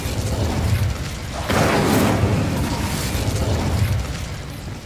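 Incendio fire spell cast in Hogwarts Legacy on PS5, a loud whooshing burst of flame that flares up suddenly and roars for a couple of seconds before settling back into a low rumble.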